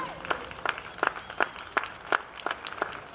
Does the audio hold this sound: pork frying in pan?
no